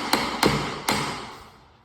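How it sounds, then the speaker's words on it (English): A hammer strikes a garage door leg three times with light, crisp metallic taps during installation, each tap ringing briefly before the sound fades out. "I usually take my hammer and I give it just a subtle tap."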